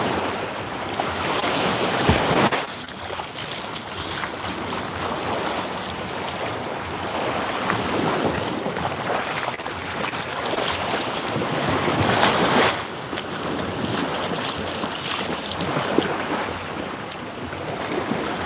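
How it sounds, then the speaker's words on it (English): Surf rolling in steadily on 7 Mile Beach in Negril, Jamaica, a continuous loud wash of breaking waves with strong wind buffeting the microphone, no voices. "7 Mile Beach, Negril, Jamaica."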